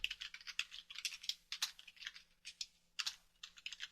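Close, quiet typing on a computer keyboard: rapid irregular clicks and key taps in quick bursts with brief pauses, alone in a silent room.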